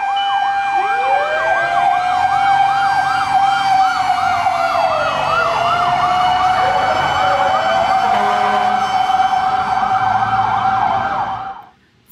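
Loud, overlapping fire truck and police sirens wail continuously, several sweeping tones cycling up and down at once over a low rumbling engine, fading out at the end.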